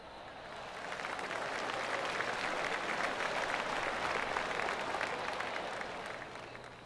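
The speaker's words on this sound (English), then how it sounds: "I can hear the golf claps around the course" Scattered golf claps from spectators around the course, a steady far-off patter of many hands swelling in over the first second and holding through the clip, no voices over it.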